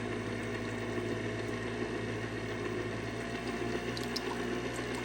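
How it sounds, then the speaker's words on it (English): A mixer whirs steadily and loudly on low while heavy whipping cream is poured in, a constant churning wash of sound throughout. "pour the heavy whipping cream"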